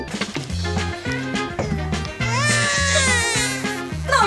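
A baby-like cry rising over a looping musical accompaniment in a Polish family comedy sketch, loud and continuous for several seconds, with a wavering wail building in the second half.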